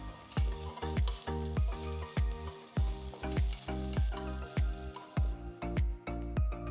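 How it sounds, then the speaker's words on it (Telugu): Chopped onion and green chillies fry in hot oil with ginger-garlic paste, a constant sizzle under regular, rhythmic scraping strokes of a spoon against the pan. "ఇందులో చిన్నగా తరిగిన ఒక పెద్ద ఉల్లిపాయ, చిన్నగా తరిగిన 2 పచ్చిమిరపకాయలు వేసి వేయించాలి."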